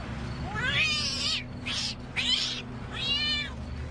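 An angry rescued kitten meows loudly and insistently, four drawn-out cries in quick succession, close to the listener over a low background hum.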